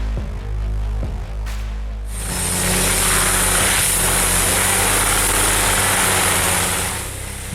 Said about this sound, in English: The Braun 300, armed with a 600 HP Cummins engine, doesn't just clear, it obliterates.